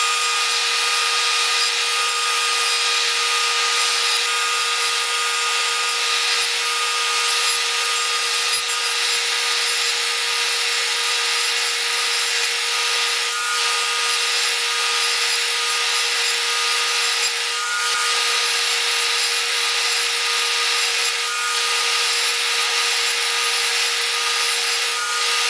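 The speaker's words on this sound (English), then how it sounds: "we're gonna head over to the router table and we're gonna round over the edges on these tenons" A router on a router table rounds over the edges of small wooden tenons, a loud continuous high whine with steady cutting noise throughout, no pauses.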